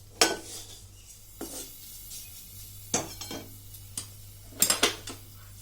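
Metal and glass clatter as a lid goes onto a pan of bhindi masala, a handful of sharp clinks and knocks spaced over a few seconds against a quiet kitchen hum.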